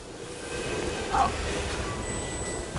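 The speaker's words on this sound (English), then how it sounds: "Nothing stops this train." A train in the video game Borderlands 2 rumbles along steadily with a dense rolling clatter and a brief metallic squeal midway, loud and continuous without talk.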